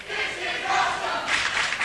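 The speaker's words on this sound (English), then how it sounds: "the crowd here at the NWA Arena getting behind Team Anarchy" Wrestling crowd at the NWA Arena during a War Games match, a dense roar of cheering and shouting from many voices that swells and keeps up throughout.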